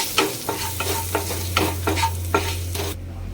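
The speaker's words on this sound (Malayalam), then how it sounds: "കാശ്മീരി മുളക് പൊടിയാണ്, പിന്നെ കുറച്ച് കുരുമുളക് പൊടി, ഗരം മസാല, കരുവേപ്പിൻ്റെ ഇല. ഇതൊന്ന് നന്നായിട്ട് ഇളക്കി." Kashmiri chili powder, pepper powder, garam masala and curry leaves being stirred in a pan for stuffed squid: repeated scraping strokes of a spoon over a soft sizzle and low steady hum, close and clear, with no talking.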